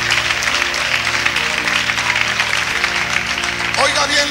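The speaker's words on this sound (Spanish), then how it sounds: "Dele un aplauso al Rey con todo su corazón," A church youth congregation applauds at a fellowship service, with sustained dense clapping and steady music or voices underneath throughout.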